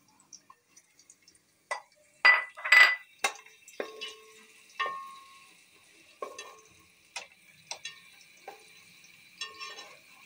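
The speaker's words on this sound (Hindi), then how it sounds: "अब एक अदद प्याज मैं इसमें डाल रही हूँ।" Onion frying in hot oil in a quiet kitchen, heard as faint, sparse crackles and pops with a few utensil clinks and scrapes, spaced out and soft.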